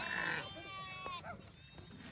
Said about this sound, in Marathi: चांगले मेंढे आहेत सगळे